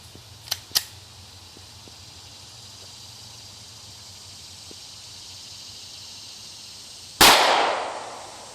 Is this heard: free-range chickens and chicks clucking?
no